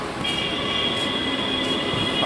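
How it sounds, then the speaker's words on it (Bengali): A train pulls into a metro-area station after a long wait, its rolling rumble steady and close with a high wheel squeal running through most of the approach, no voices over it. "ফাইনালি অনেকক্ষণ ওয়েট করার পর ট্রেন চলে এসছে"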